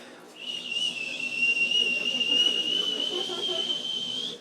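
A voice imitates a whistling tea kettle with a steady, high-pitched breathy whistle held for several seconds.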